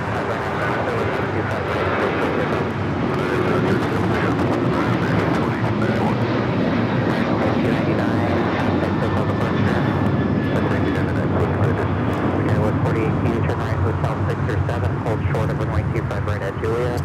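An American Airlines Boeing 737-800 takes off at LAX, a loud, steady jet engine roar that holds for the whole stretch at close range, with a commentator talking over it.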